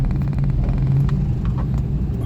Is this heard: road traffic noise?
yes